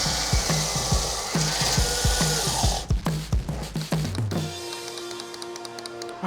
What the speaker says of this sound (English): again with the beam saw